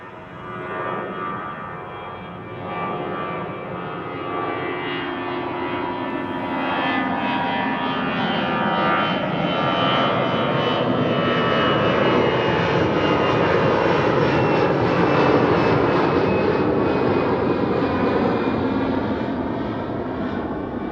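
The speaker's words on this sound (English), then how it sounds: "Lufty, flight 2303 to Munich, A319 up first." A Lufthansa Airbus A319 departing runway 24 at Amsterdam Schiphol roars loud and close, its engine sound swelling and holding steady for the whole stretch, with no voices.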